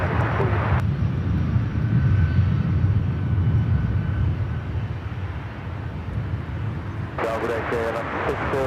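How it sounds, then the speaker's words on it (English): A Boeing 757-200 at LAX roars with a loud, steady jet engine rumble that fades gradually, while radio voices from air traffic control come in at the start and again at the end. "Say Sports Charter heading to Salt Lake City in the 757-200"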